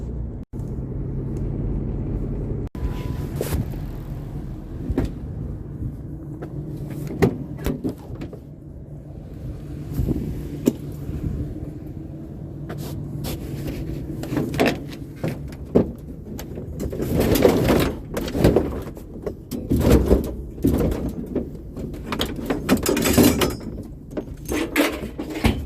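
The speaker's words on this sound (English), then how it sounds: "Door won't stay closed, keeps sliding around on it." Loose sliding door in a car that won't stay shut, knocking and rattling around inside while the car drives, irregular clunks and thuds over a steady road rumble, some sharp and close.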